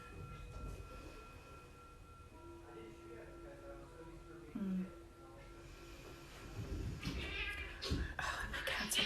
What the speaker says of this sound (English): My youngest male cat was getting a little too rough with my girl.